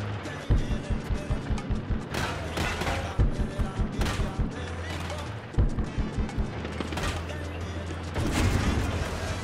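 Rapid gunfire in Far Cry 6, repeated bursts of sharp, loud shots in quick rhythmic volleys with short pauses between, over background game noise.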